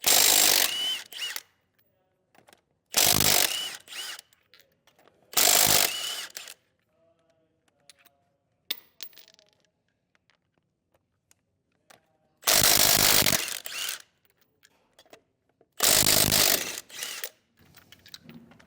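Ratchet with a 19mm socket working lug nuts off a trailer wheel on a 2022 Forest River Rockwood, in several loud close bursts of fast clicking separated by quiet gaps.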